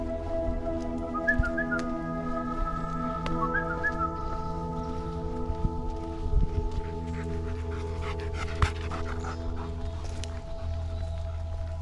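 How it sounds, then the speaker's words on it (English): A few short, bright whistles to dogs at a dog park ring out over a steady low hum, with a dog panting nearby. "Whistle like that, I'm not calling the dogs to me."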